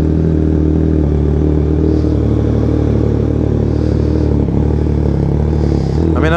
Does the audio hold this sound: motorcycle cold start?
yes